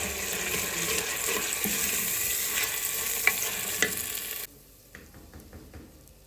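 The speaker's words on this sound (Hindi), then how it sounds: "अब इस मिसाले के साथ अच्छी तरह भून लूँगी" Onions fry with spice masala in a pan, a steady loud sizzle with stirring scrapes, which stops abruptly partway through, leaving a few faint clicks and scrapes.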